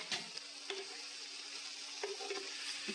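Cubes of elephant foot yam sautéing in homemade ghee, a faint soft sizzle with a few light scraping stirs of a spoon, quiet and close with no voices.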